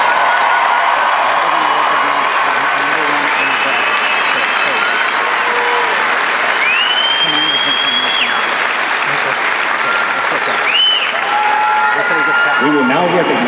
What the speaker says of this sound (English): How about a nice round of applause for all of our honored graduates?